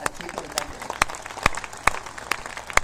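Audience at a gathering in Lohiya Park, Lucknow, claps in a thin, scattered patter with sharper individual claps standing out at a steady beat, moderately close, with some background murmur.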